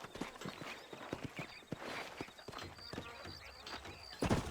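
Horse hooves clip-clop at a steady walking rhythm in the Red Dead Redemption 2 video game, quiet and moderately close, with a short neigh breaking in near the end.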